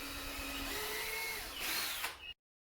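A power drill bores into a wooden mirror frame, whining steadily and then rising in pitch before stopping abruptly, followed by a brief silence and a soft bump.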